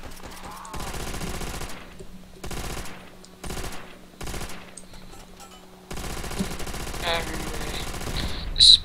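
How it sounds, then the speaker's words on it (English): Bursts of automatic gunfire in Call of Duty: World at War custom zombies rattle in repeated volleys, fairly loud, with a steady background hum and a brief high electronic beep near the end. "Why do I hear gunfire?"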